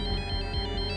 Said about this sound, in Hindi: मेरे फोन की घंटी बजी थी।